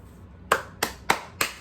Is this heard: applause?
yes